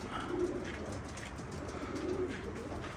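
Pigeons coo in low, rolling calls, repeating a couple of times at close range over a steady background hum.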